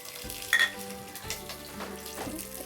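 Mustard seeds, chana dal, urad dal and peanuts frying in hot oil for cashew upma, a steady close sizzle with a few scattered pops and crackles.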